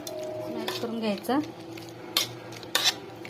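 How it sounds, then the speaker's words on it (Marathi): Cooked pav bhaji vegetables being mashed in a pot, with a few sharp metallic knocks and scrapes of the masher against the pot, close by, over a low background hum and a brief voice. "आता हे असं मॅश करून घ्यायचं"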